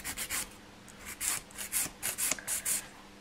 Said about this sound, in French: je lime sur l'intérieur de mon ongle